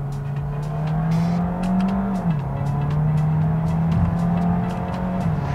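Engine of a Vauxhall Astra plug-in hybrid revs after a downshift of a couple of gears, a gruff, bassy note holding steady near the car, rising briefly, dipping, then sustaining under a continuous loud drone.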